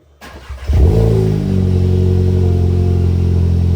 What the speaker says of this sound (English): we're gonna see what the car sounds without any exhaust